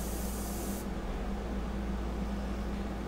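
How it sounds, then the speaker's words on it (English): Airbrush spraying sepia paint with a steady, soft hiss as the trigger is pumped, the high airy edge cutting out after the first second while a low hum continues. "pumping that trigger and kind of creating a distance between your spray pattern"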